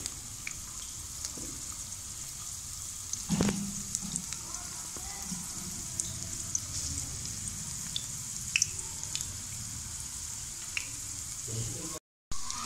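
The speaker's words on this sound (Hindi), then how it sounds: "कबाबों को हम शैलो फ्राई करेंगे। लो फ्लेम पे फ्राई करेंगे इनको।" Potato seekh kebabs shallow fry on a low flame, giving a steady soft sizzle throughout with occasional small pops and stirring clinks.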